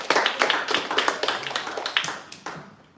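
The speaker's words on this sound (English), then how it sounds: "Let's hear a round of applause for Sina." A small group claps for a presenter at an AI and mathematics hackathon. The claps are sparse and distinct, close by, and taper off into a few last isolated claps.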